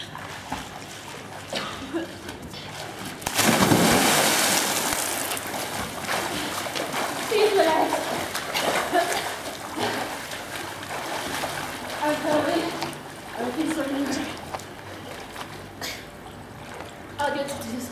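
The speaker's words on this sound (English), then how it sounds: "Candidate number 2 will use a straddle jump to gain entry into the water" A swimmer makes a straddle jump entry into a swimming pool during a lifesaving assessment, producing one loud splash followed by sloshing, churning water that continues at moderate level.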